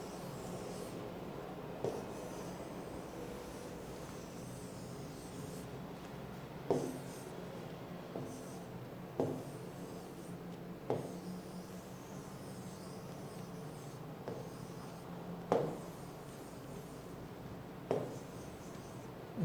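Marker or chalk strokes erasing writing on a classroom board, heard as a series of scattered soft scraping swipes over a steady low room hum, with no talking.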